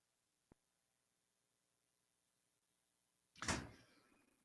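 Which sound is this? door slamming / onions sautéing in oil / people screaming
door slamming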